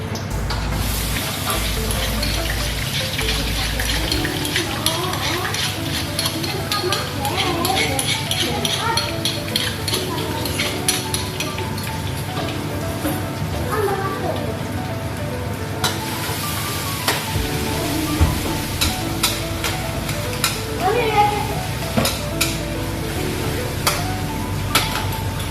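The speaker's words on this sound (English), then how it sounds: "So stir fry the garlic," Garlic, ginger and turmeric stir-fried in a pan give a steady, close sizzle with scraping stirs, running continuously for the whole stretch, and a low hum is also present.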